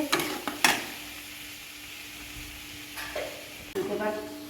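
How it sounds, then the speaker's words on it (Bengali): Onion frying in a pan for a yogurt chicken curry, a soft steady sizzle running throughout, broken by a few sharp stirring clatters near the start and again toward the end. "আমি লাল লাল করে ভেজে নেব নিয়ে পেঁয়াজটা এবার ভাজা ভাজা হয়ে গেছে"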